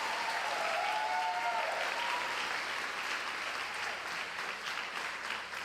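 Catholic congregation applauding during a priest's reflection, a dense, sustained wash of clapping from a crowd at moderate distance, fairly even throughout with no speech.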